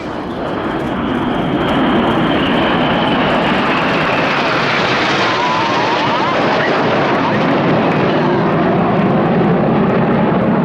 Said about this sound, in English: Here comes a lone jet.